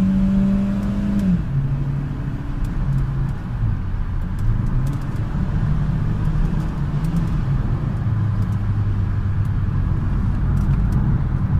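A Chevrolet Aveo 1.4 LT petrol car engine accelerates with a steady, fairly loud hum that climbs and shifts in pitch as it pulls, heard clearly with no talking.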